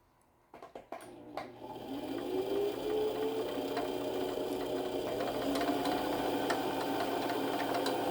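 A sewing machine winding thread onto its bobbin: a few clicks and handling taps, then the motor spins up into a steady, rising whir that runs continuously at close range.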